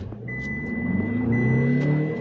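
A Tata Safari and a Toyota Innova, diesel versus petrol, accelerate in a drag race, their engines droning and rising in pitch in a loud, close, sustained rev.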